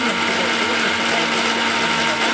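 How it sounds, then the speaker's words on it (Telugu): A kitchen mixer grinder (mixie) whirs steadily as it grinds fried cumin and fenugreek seeds for homemade onion pickle, a loud continuous motor drone with a constant hum and no pauses. "ఇప్పుడు మిక్సీ పెట్టుకొని"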